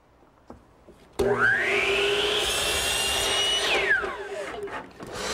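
A power saw spins up with a rising whine and cuts a 12.5-degree angled end on a wooden shelf piece, a loud close sustained buzz for about two and a half seconds before winding down.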